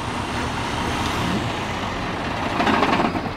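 Flatbed semi truck backing up, a steady loud engine drone with broadband rumble throughout, swelling slightly near the end.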